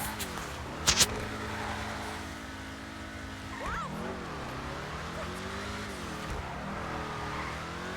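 A Vapid Dominator FX car in GTA Online drives with a steady engine drone that rises and falls with revs, broken by a sharp double burst near the start.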